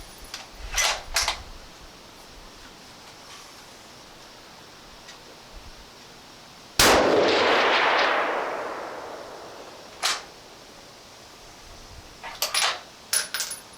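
A DPMS LR-308 rifle fitted with a muzzle brake fires one loud, sharp shot that rings out and decays over about three seconds, with scattered fainter clicks and taps before and after.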